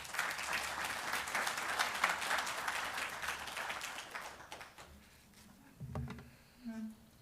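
An audience at an academic talk on China's economy welcomes Professor Yao Yang with sustained applause that fades out after about four seconds, followed by a few soft bumps and rustles.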